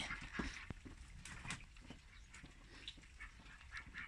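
Several Muscovy ducks quack intermittently at close range over a noisy outdoor background, with no speech.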